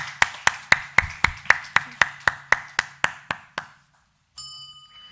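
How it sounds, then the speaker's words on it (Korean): A congregation at a Korean Sunday morning worship service claps in unison, about fourteen crisp, evenly spaced claps in a quick steady rhythm that stop abruptly, followed by a brief pause and a faint ringing tone. "하나님께 감사와 영광의 박수를 올려드리시겠습니다"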